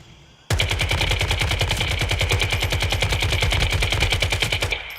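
Rapid automatic gunfire from the video game Once Human, loud and close, rattling off as one fast, even stream of shots for several seconds after a quiet start, with no talking.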